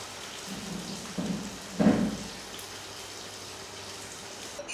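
Heavy rain pours down in a steady broad hiss, with a couple of low rumbles of thunder swelling briefly midway before fading back into the downpour.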